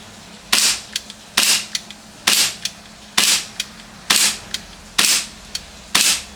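An airsoft gun firing a test string, seven sharp loud shots at a steady pace of roughly one per second, close by, each with a short ringing tail and no talking.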